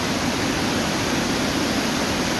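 A waterfall in Mindanao, Philippines, roars in a dense, constant rush of falling water, loud and close, steady throughout without any talking.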